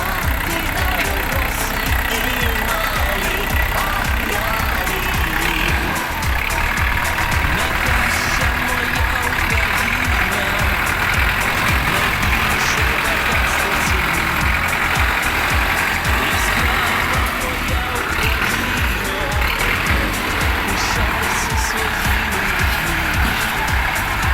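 A 2023 Jinma 404 mini tractor rated at 40 horsepower drives in with its engine running steadily and loudly, a continuous mechanical drone that lasts the whole stretch.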